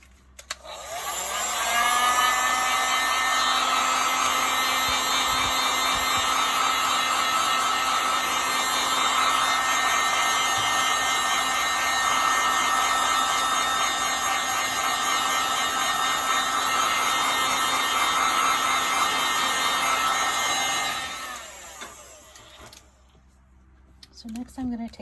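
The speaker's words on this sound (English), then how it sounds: "Okay, I'm going to heat that up a little bit." A heat gun blows steadily with a constant whirring hum over a resin coaster for about twenty seconds, then switches off and winds down near the end.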